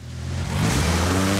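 An off-road car engine in the Forza racing game revs up, the loud mid-pitched drone rising quickly over about a second and then holding high, with no talk.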